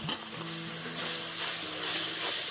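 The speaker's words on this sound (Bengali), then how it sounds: "দিয়ে ভালো করে মশলাটা কষিয়ে নেব" Spice paste (masala) with turmeric frying in a pan, giving a continuous close sizzle with a steady hiss and a faint low hum underneath, with no voices.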